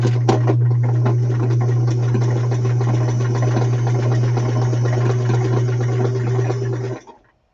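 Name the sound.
sewing machine stitching a zigzag on fabric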